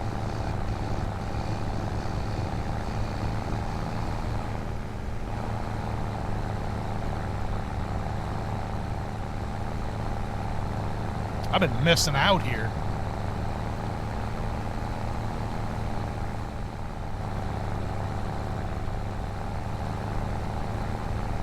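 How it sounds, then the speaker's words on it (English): Tractor engine in Farming Simulator 25 heard from inside the cab, a steady low droning rumble that holds throughout, with a brief spoken remark partway through. "I never realized how good the interior tractor sounds actually are"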